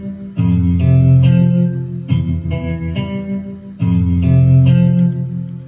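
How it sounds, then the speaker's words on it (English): An Omnisphere Baritone Guitar A preset plays a slow, deep, reverberant guitar phrase of sustained chords, repeating in a steady pattern with no voices. "The preset is an Onosphere, and it's called the Baritone Guitar A."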